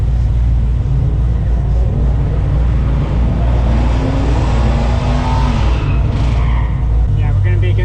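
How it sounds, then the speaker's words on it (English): Ford Mustang GT500 launching off the line at a drag strip with the engine held near 1500 RPM, a loud continuous engine roar building and rising toward the end, with talk over it. "We're going to try and launch it with a little RPM."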